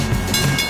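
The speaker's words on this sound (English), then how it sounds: "Yeah, I guess it is a real train." A real train rolls past a few blocks from a restaurant, a steady, loud rumbling wash of rail noise filling the short moment with no voices.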